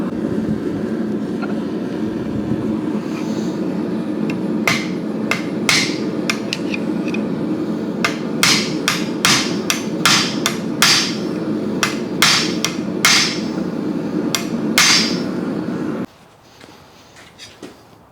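Sharp metallic hammer blows set rivets on a hand-forged copper ladle, about a dozen loud, irregular strikes over a steady background hum that cuts off near the end.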